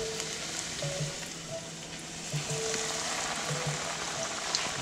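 Flour-coated sheepshead fillets sizzle steadily in hot frying oil, a dense, even crackle with small pops throughout and no voices.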